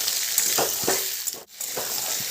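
Mixed vegetables including radish sizzle steadily in a hot pan, with a few stirring scrapes and a brief dip midway; loud and close, no talking.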